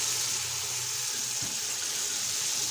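Chicken stock (yakhni) pours steadily into a cooking pot of spiced chicken pulao, a continuous soft gushing of liquid with one low thud midway.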